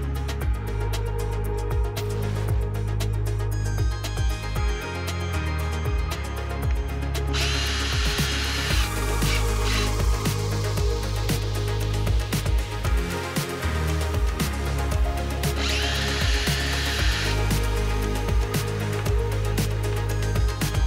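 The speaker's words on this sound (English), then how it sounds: "first thing you need to do is drill out the holes for the scrapers to be installed" A power drill enlarges pre-drilled pilot holes for undertray scrapers on a C8 Corvette, whining loudly in repeated bursts with pitch changes as the bit bites and spins down between holes, no talking.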